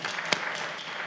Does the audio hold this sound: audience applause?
yes